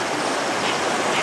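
Rushing water of a stream, an arroyo where small charalito fish are caught, as a loud, steady broadband wash close by with no voices over it.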